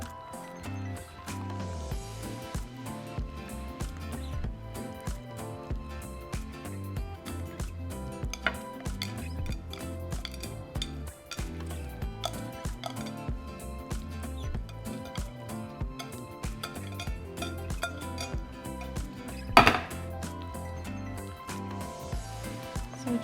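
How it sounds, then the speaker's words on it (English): Fruit salad of mango, papaya and strawberries folded into cheesecake filling in a bowl, giving soft, repeated wet squishing and stirring sounds at a steady rhythm, close and fairly quiet, with one sharper knock near the end. "So just mix your fruits with your cheesecake."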